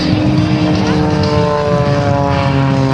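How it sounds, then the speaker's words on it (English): An aerobatic airplane tumbles nose over tail at an airshow, its propeller engine droning loud and steady with wavering pitch. "Tumbling the airplane nose for tail, tail for nose, and where it stops, only Mr. Jan Collmer knows"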